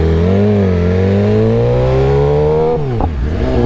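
A motorcycle engine drones loud and close while being ridden on a morning commute in Hawaii, its pitch climbing gradually, then dipping sharply around a gear change before rising again, with rushing wind underneath.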